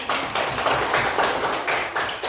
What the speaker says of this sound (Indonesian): Sekarang kita tepuk tangan untuk kelompok 2